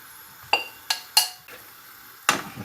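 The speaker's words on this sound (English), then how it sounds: "And now I'm going to add that veg back in." Vegetables tipped back into a pan of pork curry, giving a handful of sharp metallic clinks and scrapes from pan and utensil, spaced irregularly with quiet gaps between them and no talk.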